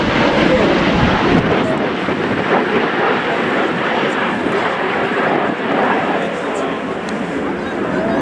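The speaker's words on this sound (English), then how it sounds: "And then we have two Lockheed Martin F-16CM Fighter Falcons." Two Lockheed Martin F-16CM Fighting Falcon fighter jets make a flypast at the RIAT air show at RAF Fairford, a loud, steady broadband jet roar filling the whole stretch, with wind buffeting and a voice talking over it.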